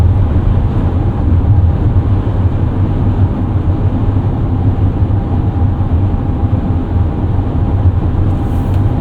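A 2024 Mercedes-Benz eSprinter electric van accelerates to pass on a windy night, heard from inside as a steady, loud wash of road and wind noise with no engine note rising above it.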